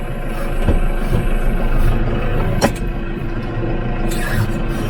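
A New Holland tractor engine runs steadily near tree-clearing work with a tree puller attachment, a loud constant mechanical drone with a few sharp knocks and clanks over it, no speech.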